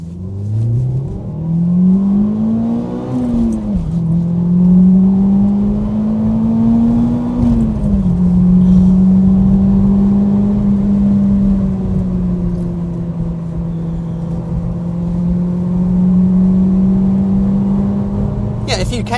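A 2002 Ford Focus Mk1 ST engine pulls hard through the gears, its note climbing in repeated sweeps with brief dips at each shift, loud and close from inside the car.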